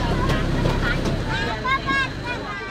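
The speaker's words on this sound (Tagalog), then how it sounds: "sumakay kami sa bangka patungong Barangay Luwal sa Kasiguran" Boat ride on the sea toward Barangay Luwal in Kasiguran, with a steady engine and water rumble mixed with wind buffeting the microphone, plus faint background voices.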